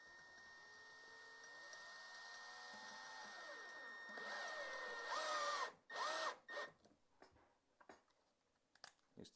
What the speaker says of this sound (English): use our drill to put this in